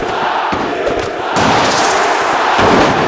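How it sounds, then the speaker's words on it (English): A wrestling crowd in Paris roars loudly and steadily, a dense wall of cheering and shouting that swells partway through and stays intense to the end. "you can hear this crowd here in Paris"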